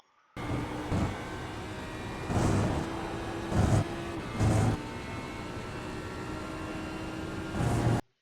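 An Audi R8 GT3 racing at Mugello in iRacing, a steady engine drone with brief surges and bumps at intervals, heard alone without talking.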